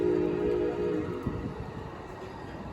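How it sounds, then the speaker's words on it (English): An Amtrak Surfliner train passes close by, a steady low rumble of wheels and cars on rail that holds loud at first, then gradually fades a little as it rolls on. "there goes the Surfliner"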